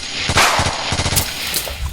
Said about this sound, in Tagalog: Parang sniper yun eh.